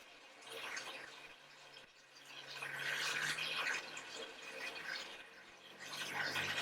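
Water pours steadily into the water pan of an assembled charcoal grill, a continuous splashing trickle that swells and eases over several seconds, fairly quiet and alone.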